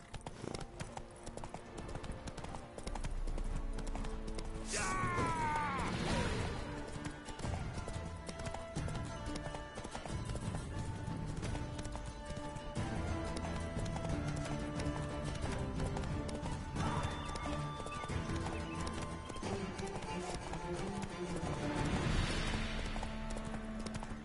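Horse hooves clip-clop in a steady rhythm while riding in a video game, heard over continuous game music and occasional whooshing effects.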